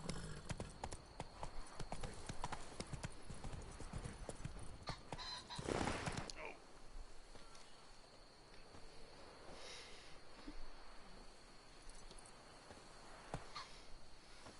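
The horse Roach gallops in The Witcher 3 video game, with rapid rhythmic hoofbeats, a brief whoosh midway and faint neighing, heard fairly quietly with no talking.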